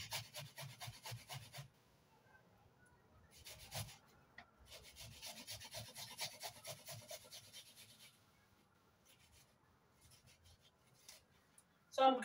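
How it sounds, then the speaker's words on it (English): An onion is grated on the small side of a box grater, making faint rhythmic scraping strokes in bursts with short pauses between them. "I want to grate an onion with a small side grater."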